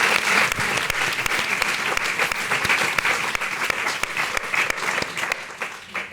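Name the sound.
audience applause at conference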